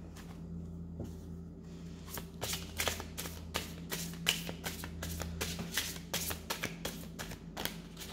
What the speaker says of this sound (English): So I'm shuffling it once, and I am clearing the cards once again.